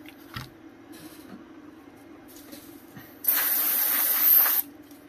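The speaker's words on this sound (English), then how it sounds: "That was isopropyl alcohol," Isopropyl alcohol sprayed onto a disc drive being serviced from an FM Towns Marty console, one loud steady hiss lasting just over a second after faint handling noises.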